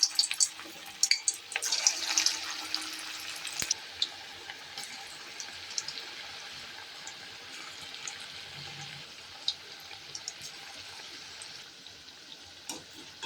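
Spinach pakoras frying in hot oil in a wok, a steady soft sizzle throughout with scattered crackles and light clatters from the pan.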